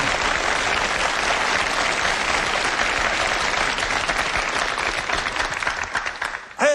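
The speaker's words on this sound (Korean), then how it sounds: "맞으면 박수 좀 쳐." Sustained, dense applause from a lecture audience at a Korean history talk, loud and even throughout before tapering off at the end.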